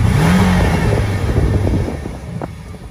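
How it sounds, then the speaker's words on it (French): Porsche Cayman 718 GTS with turbocharged engine in sport mode, its exhaust droning loud and close at first, then easing slightly in level over a few seconds, with no talking. "Et là je viens de rajouter en plus le mode sport, ce qui va à nouveau modifier un petit peu cette sonorité."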